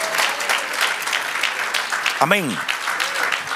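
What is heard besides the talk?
congregation applauding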